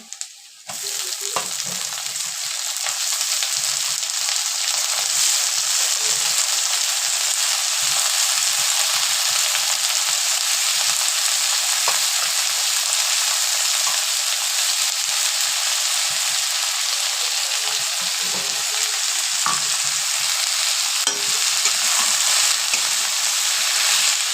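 Potatoes fry with onion and chili in a pan, giving a long, even, close sizzle with occasional faint stirring clicks and no talking.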